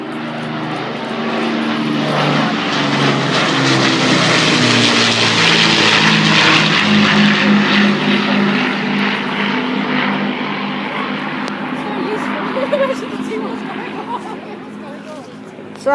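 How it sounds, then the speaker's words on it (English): An Avro Lancaster bomber flies over Southend Airport, its propeller engines swelling from distant drone to a loud, throbbing roar overhead before slowly fading away, with faint crowd murmur underneath. "Lancaster! Listen. No one say a word."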